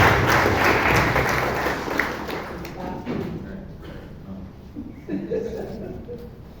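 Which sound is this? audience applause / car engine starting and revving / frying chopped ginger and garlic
audience applause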